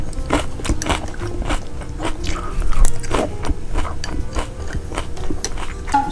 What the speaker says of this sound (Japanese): まずはサラダからいただきます。